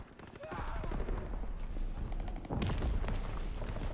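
Loud, dense gunfire from the World War II shooter Call of Duty WWII, with rapid automatic bursts and booming impacts filling the scene, and shouted game voices mixed in.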